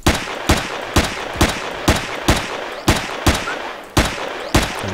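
Rapid rhythmic gunfire in the space survival game Empyrion Galactic Survival, about ten sharp evenly spaced shots over a few seconds, loud and close against a steady noisy background.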